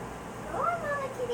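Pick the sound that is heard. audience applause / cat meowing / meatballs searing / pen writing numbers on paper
cat meowing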